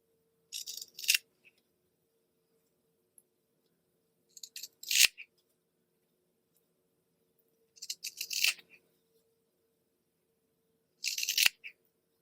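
Scissors snip through material along inside and outside curves in four separate short bursts spread across the stretch, each a crisp cluster of cuts with quiet pauses between.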